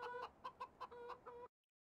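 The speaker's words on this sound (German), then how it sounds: "Gibt sogar ein paar Hühnchen." Chickens in the farming game Landwirtschafts-Simulator 17 give a quick run of about six or seven short clucks, fairly close and clear, then stop abruptly into silence.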